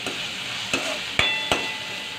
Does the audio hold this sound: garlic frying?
yes